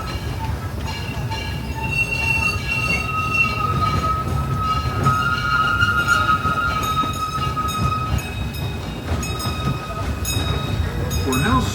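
Steady rumble and wheel clatter of a Disneyland Railroad steam train rolling along, heard from on board, loud and continuous, with faint metallic squeals and a few passing voices.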